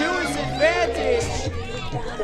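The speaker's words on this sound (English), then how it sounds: "And the crowd here in Hanford is going nuts." Wrestling arena crowd in Hanford roaring and cheering after an upset win, a dense, steady wall of voices under an announcer's speech.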